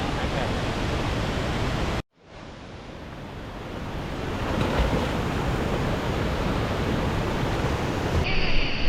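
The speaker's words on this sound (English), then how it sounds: "You can see the waterfall behind us that we were looking at from up on top." Steady broadband roar of a waterfall in a gorge off the Gibb River Road, Western Australia, loud and continuous, with a brief dropout near the start before the rushing noise resumes.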